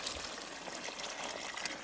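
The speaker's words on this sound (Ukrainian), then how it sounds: "Трошки наливаємо бульйон, і воно тепер все буде тут варитися." Broth poured into a bograch pot of stewed ingredients over a campfire makes a soft, steady liquid gush and trickle lasting a couple of seconds, close and fairly quiet.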